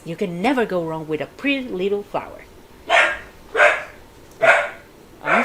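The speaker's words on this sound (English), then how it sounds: "She's barking like crazy." A pet dog barks in sharp bursts several times nearby in a home while someone talks over it playing a life-simulation witch game, the barks loud and spaced about a second apart.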